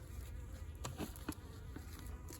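A colony of roughly 3,000 honeybees buzzes inside an opened horizontal jumbo Langstroth hive, a soft, steady drone with a few individual bees zipping past close by.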